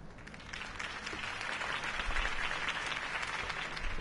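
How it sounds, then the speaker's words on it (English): A crowd applauds after a mayoral campaign speech in the Batman Season 1 game, a steady wash of clapping that swells slightly and holds, heard alone without speech. "If only Mr. Wayne, my campaign's largest backer, could have heard that applause"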